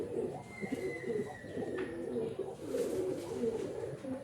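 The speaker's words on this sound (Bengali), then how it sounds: "বিগ সাইজের পায়রা আছে।" Big-bodied Madrasi and Andhra pigeons in a loft near Kolkata coo steadily and close up, a layered, throaty rumble with a thin whistle-like tone drifting over it.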